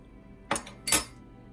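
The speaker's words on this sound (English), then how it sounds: "Stir it all together." A spoon stirs apple cider concentrate in a pot, producing two quick metallic clinks against the side, close and clear over a quiet kitchen background.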